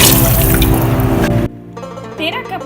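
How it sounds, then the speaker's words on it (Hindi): Water gushes from a tap into a pot of khichdi with rice and chicken cubes, loud and splashy at first, then cutting to quieter trickling and bubbling. "अब हम इसमें पानी ऐड करते हैं।"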